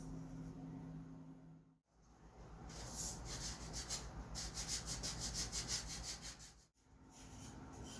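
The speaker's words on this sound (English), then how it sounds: "I have it centered on the tip so I can sand the radius back on it." Sandpaper rubbing steadily against the balsa wingtip of a model airplane, a rhythmic back-and-forth scraping with brief pauses, close and alone.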